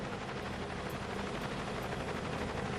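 Merlin transport helicopter in the video game Cepheus Protocol, its rotor and engine roar a steady, dense, continuous drone at close range, with no speech over it.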